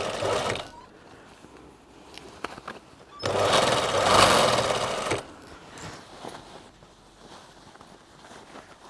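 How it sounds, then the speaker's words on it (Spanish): Sewing machine stitching the armholes of a finished dress being turned into a vest, short bursts of whirring with a longer steady run in the middle, separated by quiet pauses and light handling noise. "Vamos a la máquina y cosemos las sisas."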